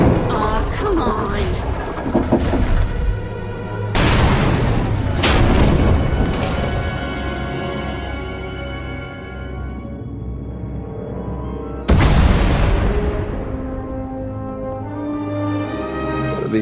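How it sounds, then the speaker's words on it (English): Heavy booming explosions in Star Wars: The Old Republic erupt in several loud waves, each ringing out with a long rumbling decay, dense and close. "We heard explosions, the tunnel collapsed."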